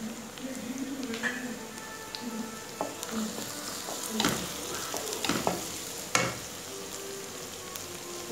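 Crushed Chinese ginger and garlic sizzling in a pan for a simple chicken curry, a moderate hiss broken by spoon scrapes and stirring clatter, no talk over it.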